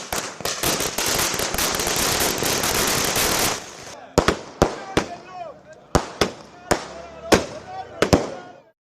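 Strings of firecrackers crackle loudly and continuously at a public celebration, a dense rapid burst that gives way to a series of separate sharp bangs spaced around a second apart, with faint talk underneath.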